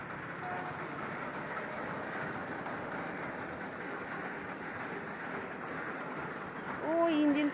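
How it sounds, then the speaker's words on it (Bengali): A departing train pulls out with its engine at the front, a steady broad rumble and rolling clatter filling the scene evenly and fairly near, swelling slightly at the end, with a short tonal squeal. "এই দেখো ট্রেন চলছে।"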